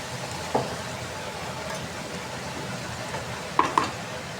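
Vegetable bhaji stirred and frying in a pan, a steady soft sizzle with a few sharp spatula scrapes and clinks against the metal, close and alone without talk.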